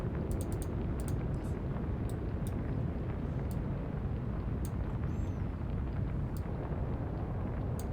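Naval gunfire strikes a battleship in the Atlantic Fleet game during the Battle of the Denmark Strait, heard as a sustained low roaring rumble of explosion with scattered sharp ticks above it, loud and unbroken throughout.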